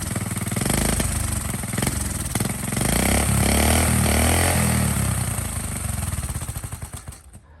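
Honda Z50K2 minibike's small single-cylinder engine running on choke, a loud, close, lumpy putter that stumbles and pulses unevenly before sputtering out at the end.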